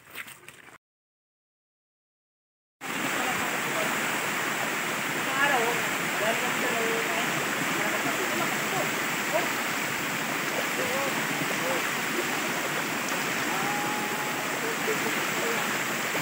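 Bigbig Falls on the Tignuan river roars in a constant broadband rush of falling water, loud and close, following a brief moment of silence at the start.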